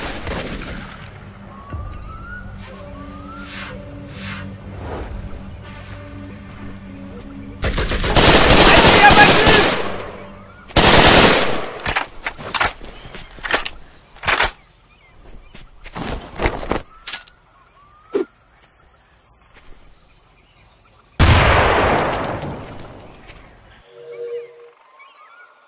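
Enemies fire on the player in the jungle shooter video game Raven Squad. Several loud bursts of automatic gunfire rip out between quieter stretches, with sharp isolated shots and brief lulls scattered across the scene.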